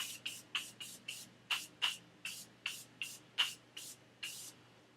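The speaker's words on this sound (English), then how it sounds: "I'm gonna be using this Morphe Continuous Setting Spray. I love this because it's so misty." A rapid series of short, hissing bursts of setting spray misting onto a face, about a dozen in quick succession, close and fairly soft with brief pauses between pumps.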